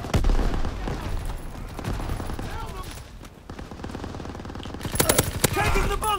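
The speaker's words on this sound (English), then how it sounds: "Give suppressing fire!" Rapid machine-gun and rifle fire rattles through a Call of Duty WW2 D-Day beach assault, with dense bursts all the way through, a brief lull midway and a loud surge near the end, mixed with shouted battle voices.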